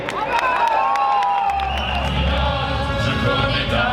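Crowd at a street demonstration applauding and cheering outdoors, a steady wash of clapping with scattered whoops and low rumble underneath, sustained throughout.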